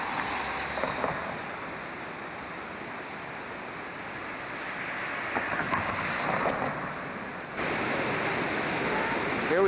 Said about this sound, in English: Here we are at the Kegon Waterfall.